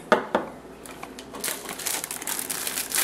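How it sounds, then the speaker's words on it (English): Eight ounces of chocolate chips poured from a crinkling package into a glass bowl with butter, opening with a couple of sharp crackles before a dense, rattling patter of chips spills in close to the listener. "followed by the 8 ounces of chocolate chips"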